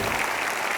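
Audience applause for a singer at a 2015 education event: a short, dense wash of clapping from a crowd, steady and fairly close for under a second.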